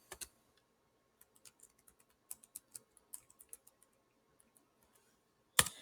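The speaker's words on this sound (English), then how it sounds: "So I just typed that into easybib.com" Sparse keystrokes tapped on a computer keyboard while entering a book title into a citation website, quiet isolated clicks scattered across a few seconds, ending with a louder final key press.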